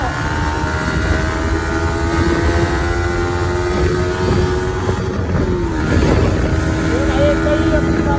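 A Kawasaki ZX-10R motorcycle with its stock exhaust idles and revs steadily nearby in a loud, continuous engine drone, with outdoor wind and background noise during a Sunday ride.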